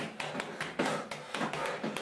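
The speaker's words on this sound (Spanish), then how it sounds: "¡Queda un zombie que está llamando a la puerta!" Zombie knocking on a door in a horror video game: a steady series of sharp knocks, about eight in two seconds, loud and close, with no talk over them.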